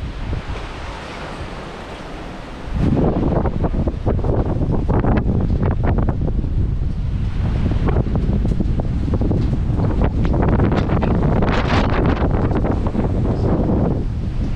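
Strong Signal 10 typhoon wind (Typhoon Ragasa, Hong Kong) roars and buffets the microphone continuously, rising suddenly after a quieter start, with rushing gusts and no clear speech.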